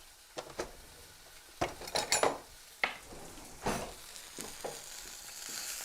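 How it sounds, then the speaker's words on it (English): A burger frying in a pan, made from a Bob's Burgers cookbook recipe. Its steady soft sizzle runs under sharp, close clinks and scrapes of a utensil against the pan, with a cluster of clatter in the middle. "Sorry if you can't hear because of the sizzling"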